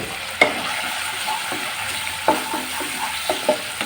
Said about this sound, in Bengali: প্রতিটা মশলা দিয়েই কিন্তু একটু নাড়াচাড়া করে নিতে হবে, নাহলে কিন্তু দলা হয়ে যাবে। তো হলুদ দিয়ে একটু নাড়াচাড়া করে নিলাম।